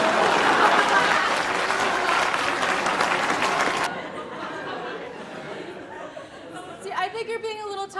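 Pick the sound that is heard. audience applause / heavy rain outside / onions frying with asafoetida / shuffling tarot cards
audience applause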